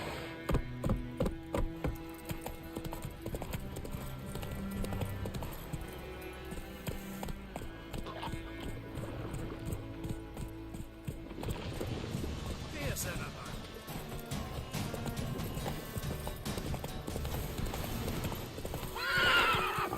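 Roach the horse from The Witcher 3 trots with steady, close clip-clop hooves over ongoing game music and ambience, a whinny rising near the end, with voices speaking at times.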